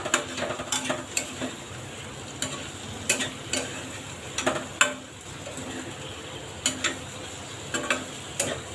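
Okra masala fries in ghee in a pan while a spoon stirs it, giving a steady sizzle broken by repeated sharp scraping clicks of the utensil against the pan, close and without talk.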